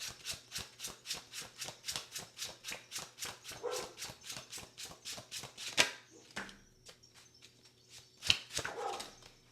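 A dog barks in a long quick series of evenly spaced woofs, fairly close, then the barking turns sparser and quieter with a few isolated barks toward the end.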